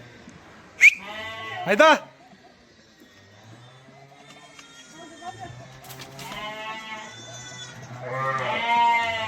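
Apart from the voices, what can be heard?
Arashan sheep bleating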